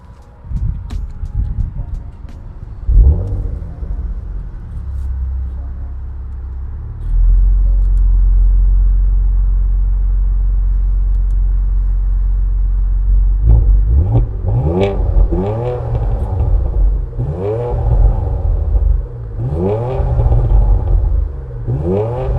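A Porsche Macan GTS with its stock exhaust idles with a low rumble, then settles into a heavy steady drone before a series of sharp revs rises and falls loudly up close.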